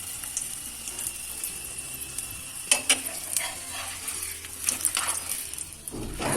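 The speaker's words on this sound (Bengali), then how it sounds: "এই দুটো পরোটা আমি এইভাবে ভেজে নিলাম" Cabbage parathas fry in a pan with a steady, close sizzle, punctuated by a few louder crackles and scraping stirs, no talking.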